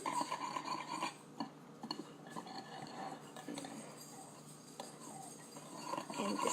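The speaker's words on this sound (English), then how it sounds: "You got your vanilla, and then you mix it." A utensil stirs vanilla into batter in a bowl, giving continuous scraping and rubbing with light clinks against the bowl, close up and fairly quiet.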